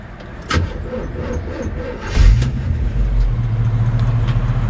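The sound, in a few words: 1977 Chevrolet Camaro engine running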